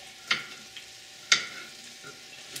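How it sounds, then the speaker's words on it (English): Tanka bites frying in coconut oil with garlic give a faint, steady sizzle, broken by two sharp clicks from the pan and a softer tap near the end. "I'm letting the Tanka bites kind of simmer in here with the coconut oil"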